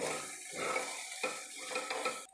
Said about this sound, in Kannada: ಈ ಕೊಬ್ಬರಿ ಹಾಕಿ ಮಿಕ್ಸ್ ಮಾಡಿದ್ಮೇಲೆ